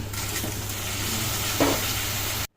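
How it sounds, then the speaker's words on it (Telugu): Washed rice tipped into a pan of vegetable pulao and stirred, a steady close frying sizzle with a brief scrape of the spoon partway through, ending abruptly. "ఇప్పుడు ఇందులోకి కడిగి పెట్టుకున్న బియ్యం వేసుకోవాలి."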